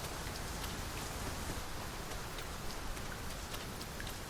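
Heavy, steady rain downpour in the video game Dragon's Dogma 2, a dense continuous hiss of drops hitting surfaces with no break or lull throughout.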